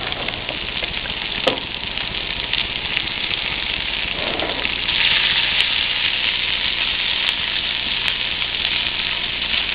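Salmon fries in a pan with a steady, close sizzle and crackle throughout, plus a few faint clinks and no talking.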